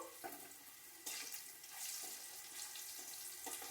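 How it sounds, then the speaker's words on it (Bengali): Cut potato pieces fry in a pan with a steady hiss and crackle, rising into a fuller sizzle after the first second, with a few faint knocks, close but fairly quiet and with no talking. "তো আলু কাটা আমি একটু ভেজে নেব। দেখুন, একটু ভেজে নিচ্ছি।"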